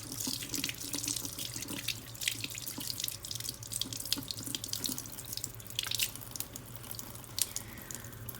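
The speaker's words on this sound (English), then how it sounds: "I rinse it off and I look at it" Tap water runs steadily into a sink while sterling silver jewelry is rinsed under it, with splashing and spattering over a continuous stream, close by and moderately quiet.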